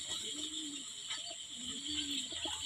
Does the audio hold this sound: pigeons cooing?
yes